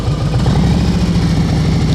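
A motorcycle engine runs close and loud at a steady idle during slow speed riding practice, a constant low throbbing hum with no talking.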